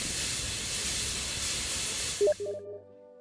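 A steady, broad hiss of steam rushes continuously from a New York street vent for a couple of seconds, then cuts off abruptly, leaving a few faint tonal rings and a low hum.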